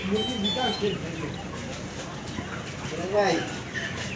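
Chickens 29 days old cluck and chirp in bursts amid a steady, busy background of a poultry shed, with scattered calls at moderate distance.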